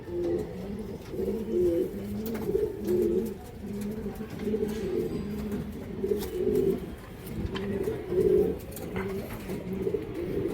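Soft, repeated cooing from racing pigeons kept in a loft, low throaty phrases recurring in a steady rhythm close by, with a few faint chirps and no talking.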